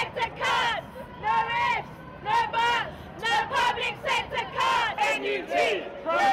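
A large protest crowd at an anti-austerity march in Britain chants slogans in rhythmic, loud unison bursts, the massed voices rising and falling in repeated phrases close by.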